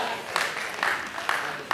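A comedy-show crowd in Lagos applauds with dense, continuous clapping, moderately loud and steady throughout, with a few sharper accents and a voice running underneath.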